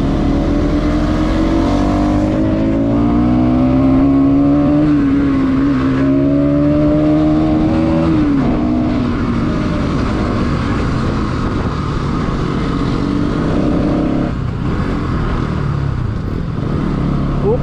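A Bajaj NS200 and a KTM Duke 200 ride at full throttle on a winding mountain road, engines roaring loud and close with rising and falling revs and gear shifts, wind rushing throughout.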